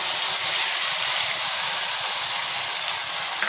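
Mustard seeds hitting hot oil for masala bhindi, a loud continuous hissing sizzle that holds steady throughout without pause.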